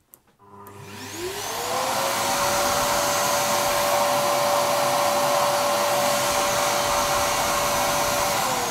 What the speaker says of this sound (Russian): А теперь я переключу шланг так, чтобы пылесос работал на всасывание.